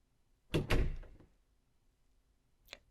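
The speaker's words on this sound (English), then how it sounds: "Then close that door, because I've got some words." A door pushed shut indoors: a quick pair of close wooden thumps as it swings and latches, followed by silence and a faint small click a moment later.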